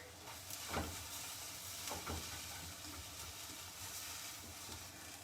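Tomatoes tossed into a hot pan after browned turkey, giving a steady frying sizzle with a couple of soft stir or scrape accents, fairly quiet and continuous with no voices.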